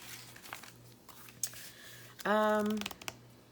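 Brown paper being handled at a crafting table, soft intermittent rustles and crinkles up close, with a brief tonal squeak partway through.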